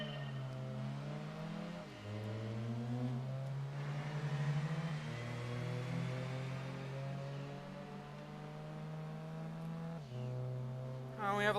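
A race car engine in Gran Turismo 2 revs steadily upward, with a few sharp gear changes where the pitch drops before climbing again. It sounds loud and continuous across the whole stretch.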